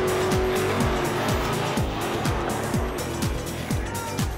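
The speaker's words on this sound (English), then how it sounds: "Drag race down the backstretch." Small robotic race cars from a school racing challenge drag race down a backstretch, giving a steady loud whine with repeated sweeping tones as the cars pass, and no talk.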